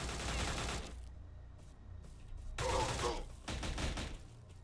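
Bursts of gunfire from the video game STALCRAFT come in rapid, uneven volleys separated by short gaps, with a heavier cluster of shots near the end, all fairly distant and muffled.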